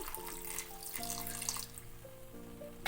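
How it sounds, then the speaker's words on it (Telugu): Water pours steadily into a pan of cooking moong dal and tomato curry, a soft continuous splashing under a faint tonal hum, with no talk. "ఇప్పుడు దీంట్లో కొద్దిగా వాటర్ యాడ్ చేద్దాము"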